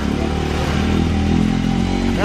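A motorcycle engine runs steadily on a mountain road toward Laprak in Nepal, a loud close throbbing drone for about two seconds with a voice talking over it.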